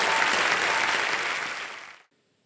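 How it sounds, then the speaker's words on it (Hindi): Studio audience applause on a televised quiz show, dense close clapping from a crowd lasting about two seconds, then cutting off abruptly into silence. "तालियां बज जाए इनके लिए।"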